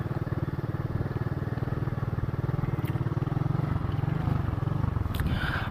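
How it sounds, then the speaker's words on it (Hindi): Motorcycle engine running steadily after a push-start at the Chaman border crossing, a loud, continuous near putter with a rapid even firing rhythm throughout. "एक बंदा जो है वो पहले उसको धक्का दिया है, फिर वो जाके चली है उसकी बाइक"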